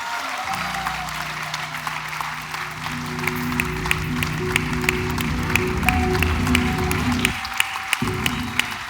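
An audience at the Jio MAMI 18th Mumbai Film Festival applauds the cast of Jo Jeeta Wohi Sikandar, with dense sustained clapping over a held musical tone and a few sharper claps standing out, filling the hall.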